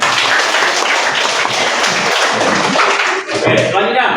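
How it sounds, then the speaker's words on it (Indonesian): Classroom of students in a school PE lesson clapping hands together loudly and close by, a dense burst of applause with voices mixed in, fading briefly near the end before resuming. "Oke, tepuk tangan semuanya."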